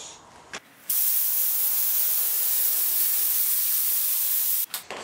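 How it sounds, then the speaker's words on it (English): A loud, continuous aerosol spray of adhesive hisses for about four seconds onto a surface in a Ford ZF Fairlane restoration, close and steady, with brief quieter moments before and after. "just by spraying a little bit of glue over the surface"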